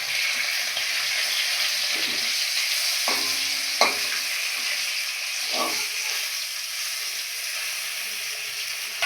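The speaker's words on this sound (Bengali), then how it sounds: "মাছগুলো আমার ভাজা হচ্ছে।" Pomfret fish sizzle in hot oil in a frying pan, a continuous crackling hiss broken by a few sharp utensil taps and scrapes.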